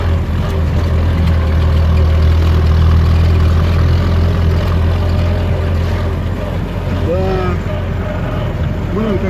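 A loud, steady Jeep Willys engine idles and runs close by, a low rumbling drone throughout with faint voices in the background.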